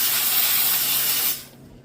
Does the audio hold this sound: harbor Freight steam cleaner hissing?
yes